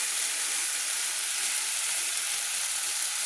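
Spice paste sizzles and hisses steadily in hot oil, cooking down for a cauliflower and egg curry, a constant close, even frying sound with no talk.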